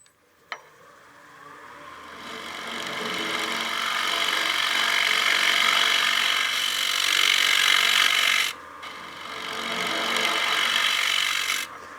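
Wood lathe roughing out the interior of a turned bowl with an Easy Wood Tools carbide cutter, giving a steady, close rasping scrape that runs continuously, breaks off briefly, then resumes.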